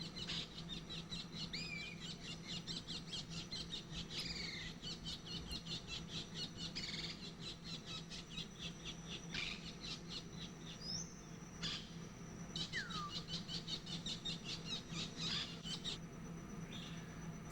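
A Senegal kingfisher caught on a glue trap set for wild African grey parrots gives repeated thin, high squeaks and chirps, faint and scattered over a constant low hum of forest ambience.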